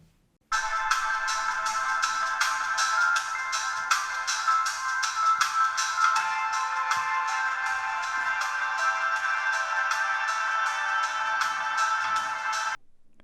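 A ringtone-like melody with rapid repeated tones plays steadily and loudly from the twin left and right stereo loudspeakers of a Cube iWork1x 2-in-1 Windows 10 tablet, with no talking.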